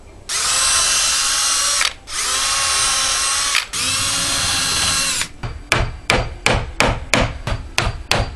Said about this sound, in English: I like to drill the edges of this hemlock.